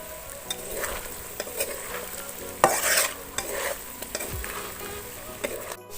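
Food frying in oil in a pan while being stirred, a steady sizzle broken by scraping and clinking of the utensil against the pan, close and alone without speech.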